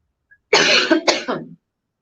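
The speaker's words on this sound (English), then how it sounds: "Sorry, I'm coughing." A speaker coughs during a talk on Vedanta, a short harsh burst of coughs close to the mic, alone and fairly loud, in two quick explosive parts.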